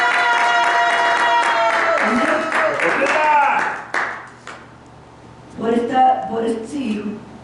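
Applause from a church congregation in the first half, mixed with tonal voices or singing, then fading to a quieter stretch with voices returning near the end.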